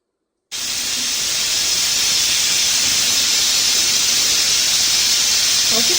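A pressure cooker cooking beef releases a loud, steady hiss of steam that starts abruptly and continues unbroken, close by, with no talking.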